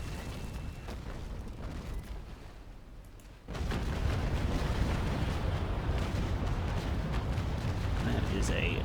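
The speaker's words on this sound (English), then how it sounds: "That is a nice broadside." A warship's cannon broadside fires in the age-of-sail naval game Naval Action, a sudden loud burst of booming shots that swells into sustained rumbling gunfire for several seconds after a quieter lead-in.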